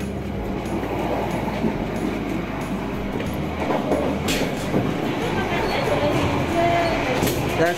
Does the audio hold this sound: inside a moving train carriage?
yes